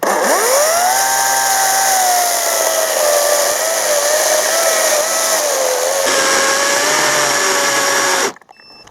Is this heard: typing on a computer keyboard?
no